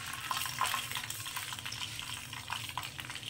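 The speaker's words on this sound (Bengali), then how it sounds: "তেলটা গরম হয়ে গেছে। তো তেলের মধ্যে প্রথমেই দিয়ে দিচ্ছি আমি মেথি" Fenugreek seeds sizzle in hot coconut oil, a steady near hiss with soft popping crackles scattered throughout.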